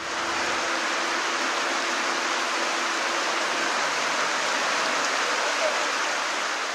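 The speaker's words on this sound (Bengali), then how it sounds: "কখনো গুড়ি গুড়ি, কখনো মুষলধারে বৃষ্টি ঝরছে দেশ জুড়ে" Steady heavy monsoon rain pours down in Bangladesh, a dense continuous hiss that fills the scene evenly from start to end, broad and unbroken with no distinct drops standing out.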